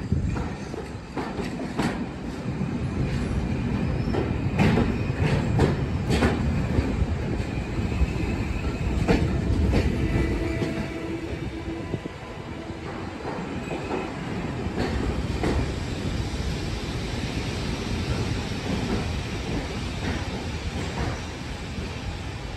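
Heritage mainline steam-era train on the Great Central Railway rolling into Loughborough station, a steady loud rumble of wagons with rhythmic wheel clatter and occasional squeals throughout.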